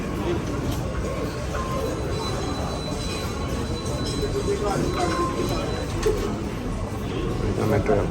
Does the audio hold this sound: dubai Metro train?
yes